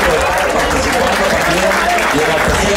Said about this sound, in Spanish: Vamos a brindar un aplauso a todas ellas.